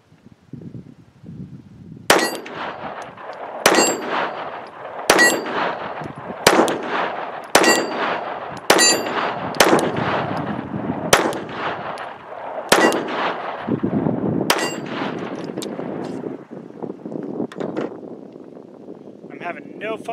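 A Ruger LCP II fires supersonic .22LR rounds, about ten sharp, loud cracks spaced a second or two apart, each ringing off briefly, with voices talking between the shots.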